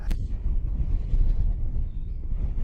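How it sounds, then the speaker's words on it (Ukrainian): Steady, heavy wind roars and buffets the microphone throughout, a dense low rumble with gusty swells and no voices. "Жахливий вітер."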